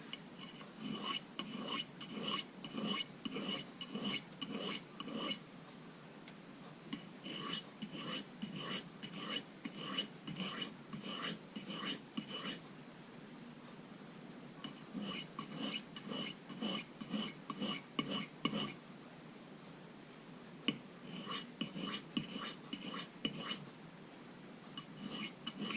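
A knife blade is stroked across a soft Arkansas sharpening stone in quick runs of rasping scrapes, close and crisp, pausing briefly between sets of strokes.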